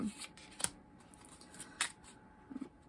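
Soft riffling and snapping of tarot cards being shuffled, a few quick crisp bursts close by at low volume with quiet gaps between.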